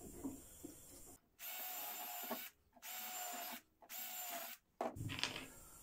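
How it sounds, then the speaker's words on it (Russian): A power drill whirs into oak in four bursts of about a second each, separated by short pauses, close and fairly loud. "Сначала сверлим."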